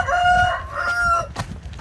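A rooster crows close and loud in one rising, strained call, followed by a few short clucks, with a quiet rural background behind it.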